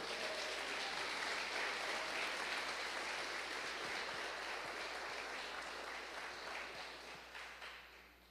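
A church congregation clapping for Jesus, a dense, steady wash of many hands that fills the room and gradually fades toward the end.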